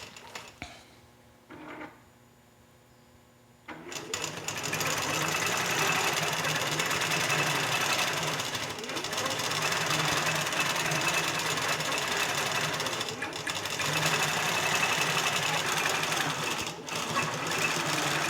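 Domestic sewing machine stitching a row of quilted feather designs, starting with a few slow stitches, then a steady, fast mechanical whir that runs on with brief pauses, close and clear, no talk.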